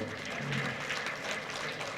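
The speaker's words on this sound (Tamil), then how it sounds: "5-6 பேர் தான் கைதட்டுறீங்க" A small handful of audience members clap at a Tamil comedy debate stage talk, producing a thin, steady patter of applause that is fairly faint and continues for about two seconds.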